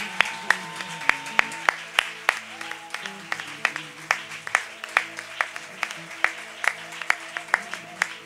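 A church congregation claps and cheers in praise during a French-language sermon, with steady rhythmic handclaps beating over sustained music throughout.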